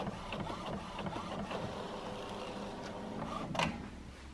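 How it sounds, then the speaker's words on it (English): A printer printing an illustration in a small studio, with a steady mechanical whir and rhythmic ticking and clicking of the print head, ending in a brief louder clack, all close and unaccompanied by speech. "I would like to print out this illustration, so let's see."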